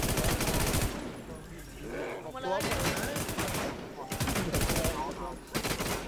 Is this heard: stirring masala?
no